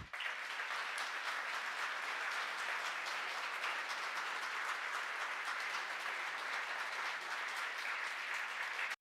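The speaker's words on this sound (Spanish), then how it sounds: "Para ellos pedimos un gran aplauso." A ceremony audience at the Argentine Senate claps for the recipients of the Senador Domingo Faustino Sarmiento honor, a steady, even applause from many hands that holds for about nine seconds, heard from a distance and fairly quiet.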